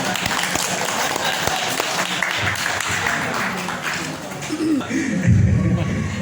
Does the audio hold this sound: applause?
yes